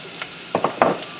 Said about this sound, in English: And start stir it. Make sure onion cook first.